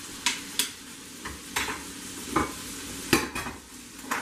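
Meat sizzles in a hot pan while being basted, with repeated spoon scrapes and liquid splashes landing every half second or so over a steady frying hiss, close and fairly loud.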